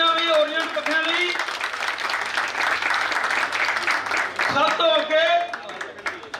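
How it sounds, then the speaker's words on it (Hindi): Loud applause from a crowd swells and holds for several seconds, with a voice speaking over the start and end. "जोरदार तालियां भी ओरिएंट पंखे लई।"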